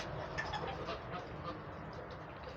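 Ducks quack intermittently over a steady, noisy farmyard background with geese, the calls faint and scattered across the clip.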